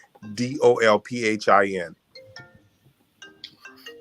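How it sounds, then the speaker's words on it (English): A mobile phone rings briefly with short, high tonal chimes, faint in the background after a stretch of speech. "Who phone ringing? that was my phone."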